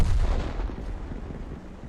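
Artillery gun fire from the M40/M43 self-propelled gun in the video game World of Tanks: a loud, deep booming blast right at the start, decaying into a long low rumble with no voices.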